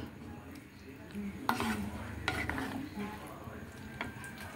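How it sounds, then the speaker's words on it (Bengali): Mixed vegetables with spices being stirred in a pan for a navratna dish, with a faint sizzle under soft scraping and several sharp clinks of the spoon against the pan. "নাড়িয়ে চাড়িয়ে নিতে হবে, যাতে মশলার সাথে প্রত্যেকটা সবজি একদম মিশে যায়।"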